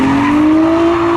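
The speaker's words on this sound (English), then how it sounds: "Look at this Ghostbusters car coming out." A Ghostbusters-themed car at a Halloween spectator drag race gives a loud, sustained engine note with a steady rising pitch and a hint of tire squeal, up close and with no speech over it.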